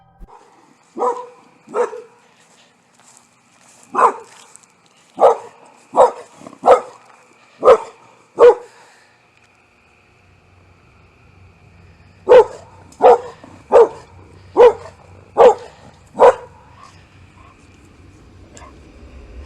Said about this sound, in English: her dog can be seen barking off into the exact direction in a rather peculiar manner